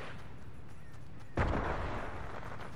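A single loud gunshot in the battle royale game Fortnite cracks out about halfway through and leaves a rumbling tail, with a quieter steady game ambience around it and no talking.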